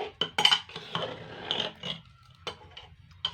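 A spoon scrapes and knocks in a pot of boiled dal and vegetables, giving a few uneven clinks and stirring scrapes that start and stop, close up and with no talk.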